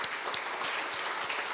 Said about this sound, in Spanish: Démosle un fuerte aplauso al que vive,